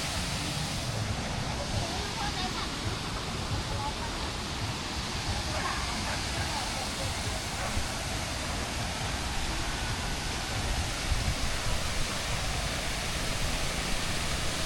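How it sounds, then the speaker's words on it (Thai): Rushing waterfall roars steadily beside a campsite at Poi Camping & Cafe, a dense, continuous broadband wash of falling water filling the whole clip at close range with no let-up. "เสียงน้ำได้ยินเสียงน้ำชัดเจนเลย"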